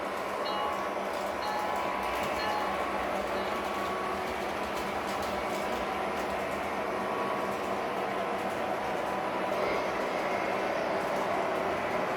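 An RS3 diesel locomotive train proceeds along the line in a continuous, fairly faint rumble with a steady mechanical drone and no distinct peaks.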